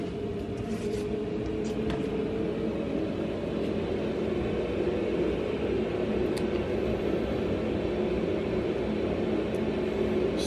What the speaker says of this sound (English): So that's the inline fan, if you can hear it.